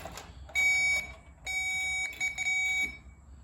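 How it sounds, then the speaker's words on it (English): Electronic beeps from a circuit tester checking a car's license plate light wiring, in two bursts, steady high tones with a brief gap between them, clear and close over a quiet background. "the beeping means that you got power to"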